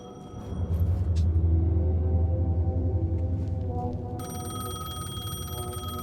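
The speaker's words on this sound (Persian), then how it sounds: "تلفن در زنگ میخوره." A telephone rings in the horror video game Alan Wake 2, a bright repeating bell that starts partway through and rises over a low, continuous rumble.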